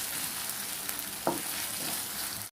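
Ginger garlic paste fries in a pan with a steady, close sizzle at an even loudness. A single short scrape or clink from stirring cuts through midway, and no one speaks.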